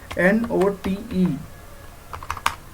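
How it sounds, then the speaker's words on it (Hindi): Someone speaks, then a computer keyboard gives a brief run of light, quick keystroke clicks as a search term is typed. "यहाँ टाइप कर दीजिएगा कीबोर्ड से"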